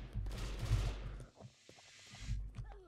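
Assault rifle fire in the Brick-Force video game: a dense burst of rapid automatic shots for about a second, then quieter game sounds and a few scattered hits before another burst near the end.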